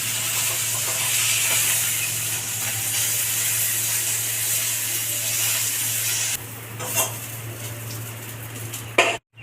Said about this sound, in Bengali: বাকি মাছগুলো এইভাবেই ভেজে নেব